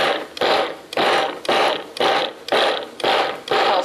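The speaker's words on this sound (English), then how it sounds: "pulse the barley a little bit." A food processor pulses cooked barley in roughly seven short, evenly spaced bursts, each a loud close whirring grind broken by brief pauses.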